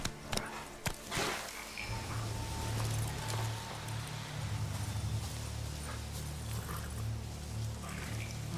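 Horse hooves in The Witcher 3: Wild Hunt, Blood and Wine, with a few sharp early hoof knocks giving way to a steady low rumble of galloping under faint rustling ambience.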